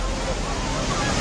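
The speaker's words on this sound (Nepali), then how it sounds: "त्रिशुली नदी बाढी आएको" The flooding Trishuli River rushes past with a constant, loud broadband roar that fills the whole short moment, with faint shouting voices mixed into the noise.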